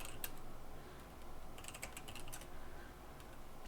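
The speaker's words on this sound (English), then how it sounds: "let's type in 121" Quiet clicking of keys on a computer keyboard while entering a number during 8080 assembly programming, a few soft taps near the start and a brief cluster of quick keystrokes in the middle over steady background hiss.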